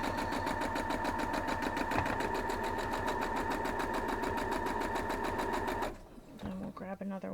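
A sewing machine stitches squares of a Rocky Road to California quilt block, running in a steady, rapid, loud drone for about six seconds before stopping, followed by a brief voice.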